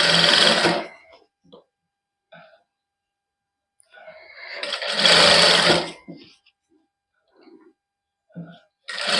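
Sewing machine running in a Punjabi boutique, stitching the folded hem of a printed suit, in short loud bursts of rapid mechanical stitching separated by quiet pauses with small handling clicks.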